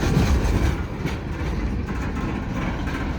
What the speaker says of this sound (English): there's the end of the train, guys, and there it goes